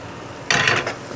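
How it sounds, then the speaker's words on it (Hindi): Green chillies, garlic and spices stirred in hot frying oil in a pan, a short scraping clatter of the spoon against the metal that lasts under half a second over a quiet background. "इनको भी ज़रा सा आपने ऐसे ऑयल में ऊपर नीचे कर लेना है।"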